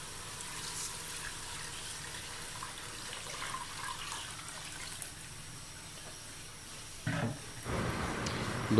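Strained boiling water is poured back into a pot of beef qeema for desi-style pulao, a close splashing gush that starts abruptly near the end after a low kitchen background hum.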